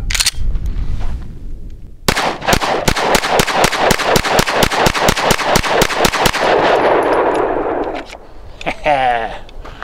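A Glock 45 pistol fires Herter's 9mm FMJ ammunition in a rapid string of about seventeen sharp, loud, evenly spaced shots, each ringing briefly, followed by metallic handling clatter.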